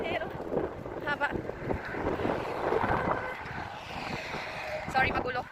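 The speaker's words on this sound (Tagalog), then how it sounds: "Sorry, magulo. Ang hangin." Outdoor wind buffets the microphone in Dubai, a low steady rush with gusty swells beneath someone talking, plus faint background chatter and traffic.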